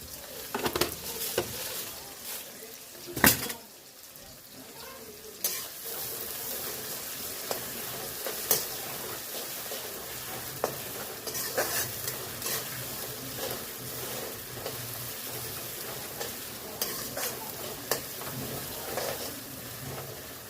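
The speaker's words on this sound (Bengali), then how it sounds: "পেঁয়াজটা লাল লাল করে ভেজে নেব" Onions frying in a pan with a little salt and sugar, giving a steady, moderately quiet sizzle with occasional stirring clatters throughout.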